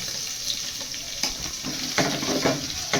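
Onions frying in oil with curry leaves and green chillies produce a close, steady sizzle, broken by several louder stirring scrapes and clatters in the latter half, with no speech.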